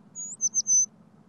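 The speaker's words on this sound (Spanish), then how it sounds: "¡Sí! ¡Un pájaro!" A few short, high bird chirps in quick succession, thin and tonal, over a faint low hum.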